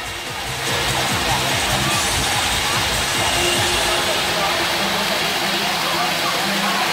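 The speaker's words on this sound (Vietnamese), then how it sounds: "Một tràng pháo tay thật nồng nhiệt để chúc mừng" Wedding guests applaud warmly during a ceremony in La Xuyên, Ý Yên, Nam Định, Vietnam, a dense, steady wash of clapping that swells in after a brief quieter start and holds at full strength throughout.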